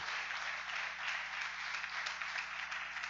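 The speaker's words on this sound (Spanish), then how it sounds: "Denle un aplauso a Jesucristo." A church congregation claps together during a Spanish-language sermon, a soft, even patter of applause that sounds a little distant and continues steadily without any speech.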